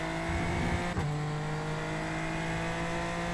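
A Super Formula Lights race car engine in a racing video game drones loudly at steady high revs with a sustained tonal whine, briefly dipping as a gear shifts before holding its pitch, with no talk over it.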